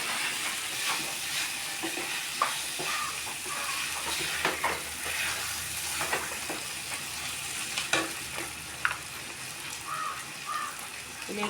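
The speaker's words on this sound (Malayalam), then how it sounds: "ഒന്ന് തുറന്ന് ഇളക്കി കൊടുക്കുക" Masala for a jackfruit dish being stirred in a pan, a steady low sizzle with scraping and clinking strokes from a spoon scattered throughout, close and moderately quiet, with no voices.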